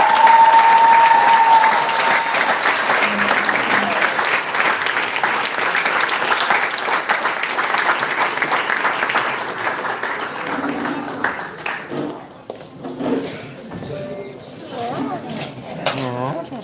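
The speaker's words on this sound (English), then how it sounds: "a big round of applause once again for those beautiful speeches and for Dee and Josh." Wedding guests applaud after the speeches, a loud sustained clapping from a close crowd that slowly fades, with clinking cutlery and dishes and some chatter as it dies down.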